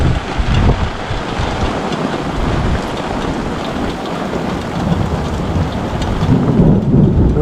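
Heavy rain pours steadily during a thunderstorm while deep thunder from a nearby lightning strike rolls and rumbles loudly throughout, with wind buffeting the microphone.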